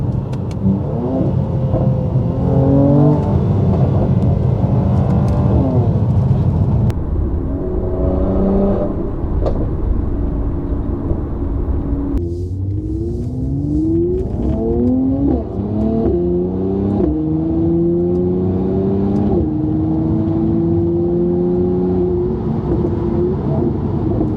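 A Mercedes C43 AMG with a performance exhaust, driven hard: loud, close engine revving through repeated rising gear pulls with audible shifts between them, no talking.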